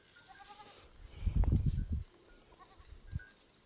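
Herd of goats on an Uttarakhand hillside farm, brought down from higher ground: one wavering bleat at moderate distance, followed by a brief faint call, over steady outdoor background noise and no talking.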